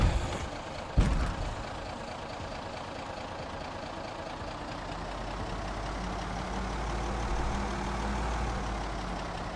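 Van engine running in the video game Project Zomboid, on a road while towing a small trailer: a steady low engine drone that swells slightly, after a brief sharp knock near the start, with no voices.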